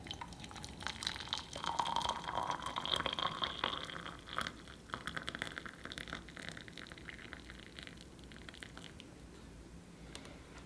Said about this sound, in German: Ich habe hier kurz Wasser aufgekocht und wenn ich das jetzt reingieße